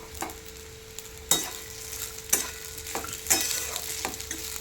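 Sabudana khichdi fries in a pan as a spoon stirs it, with a steady sizzle broken by sharp scraping strokes about once a second, close and clear with no voices.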